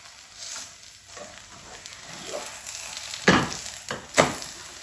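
Flatbread cooks on a hot pan with a soft, close sizzle, swelling into a few louder bursts of frying hiss as it is pressed and turned.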